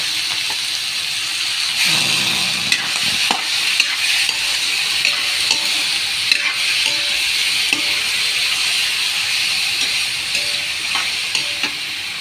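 Chicken pieces fry loudly with sautéed onions in a pan, giving a dense, continuous sizzle close up, broken by scraping stirs and small clatters of the utensil.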